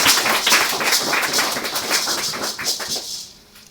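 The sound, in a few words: congregation applauding in church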